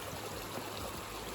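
A river stream rushes close by on a Himalayan hill trail near Taradevi waterfall between Shimla and Solan, a steady, dense wash of flowing water with no voices.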